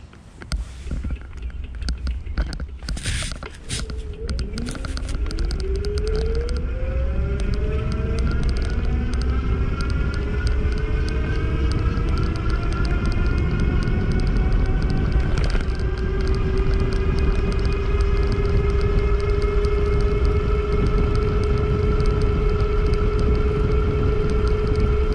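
A California Bicycle Factory Retro S e-bike accelerates on throttle, its motor whine rising in pitch and then holding steady under continuous wind and road noise as it cruises.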